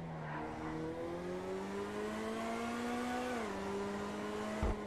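A tuned Vysser Neo sports car in GTA V holds a steady, sustained engine drone, then the pitch dips as it brakes into a curve, ending in a brief low thump.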